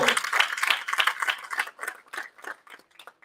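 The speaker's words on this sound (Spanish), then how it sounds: "Denle un aplauso a Cristo." A church congregation applauding, a dense burst of hand clapping that thins into scattered claps and fades within a few seconds, with a voice faintly mixed in.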